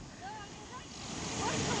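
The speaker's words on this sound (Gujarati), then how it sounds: "કેવું પાણી પડે ડેમ માંથી" Water pours and sprays from Galdhara dam near Dhari in a steady, broad rushing wash that grows a little louder, with faint whistle-like tones and background voices barely audible in the mix.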